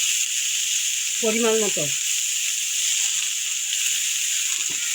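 Pumpkin frying with dried shrimp in a pan, a steady bright sizzle running throughout, moderately loud and close, with a short spoken phrase near the start and faint stirring knocks later.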